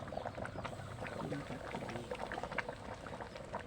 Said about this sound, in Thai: เดือดดีเนาะ